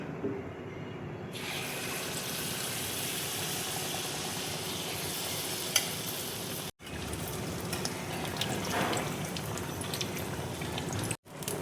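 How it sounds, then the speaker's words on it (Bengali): Jackfruit malpua batter frying in hot oil in a wok makes a continuous bubbling hiss for the whole stretch, with a couple of brief breaks and small crackles. "এবার মালপোয়াগুলো আমি ভেজে নেব। কড়াইয়ে দেখো তেল দিয়েছি, তেল দেখো গরম হয়ে গেছে।"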